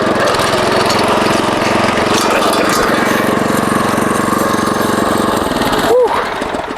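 Small walk-behind tractor (motoblock) engine, driven through two belts, running continuously and loudly at close range with a steady mechanical chug, plus a brief clank near the end.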